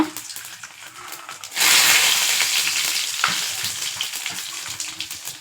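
Mustard seeds, cumin and curry leaves dropped into hot oil, a close loud sizzling crackle that bursts up suddenly and then settles into steady spattering with faint popping.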